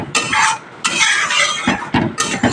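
Garam masala and other spices being gently stirred into masoor dal, with four brisk scraping strokes of a utensil against the pot coming close and clear, each separated by short pauses.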